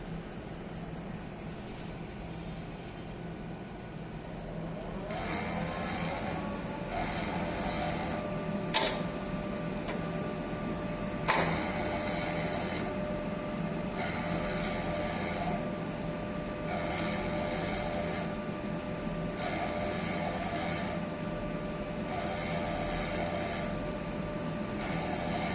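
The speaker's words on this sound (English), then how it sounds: "Machine will be start a nozzle cleaning." An eco solvent printer running a nozzle cleaning cycle: a steady mechanical drone joined by a rising pump-like whine after a few seconds, with a couple of sharp clicks, continuous and close, without talk.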